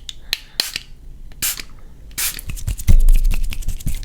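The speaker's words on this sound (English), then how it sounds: "I'm gonna finish off with a little bit of a finishing spray." Short hisses of hair finishing spray puffed from a can during a close-up ASMR haircut, several quick bursts with small scrapes and rustles between them, near and crisp, with no talking.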